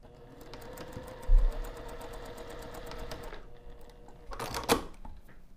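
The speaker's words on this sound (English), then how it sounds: "We're going to be sewing the short edge using a 1/2 inch seam allowance." A sewing machine stitches the short edge of a fabric panel for piping with a half-inch seam allowance, running steadily for a few seconds and then stopping, followed by a couple of handling clunks.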